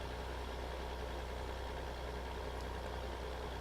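Tractor engine in Farming Simulator 2015 reversing, a steady low idling drone that runs quietly and evenly throughout with no other sounds.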